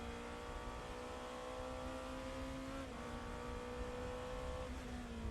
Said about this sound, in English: The engine you can hear is that of the V8 twin turbo of the unbeaten number 7 squad for Porsche Penske Motorsport, Felipe Nasr.